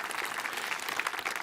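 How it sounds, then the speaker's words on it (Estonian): Audience applause at an Estonian concert for soldiers by the Defence Forces headquarters, a dense, steady wash of many clapping hands filling the whole moment, fairly loud and without pauses. "palun aplaus."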